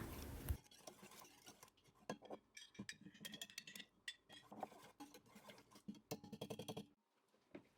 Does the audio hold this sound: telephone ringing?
no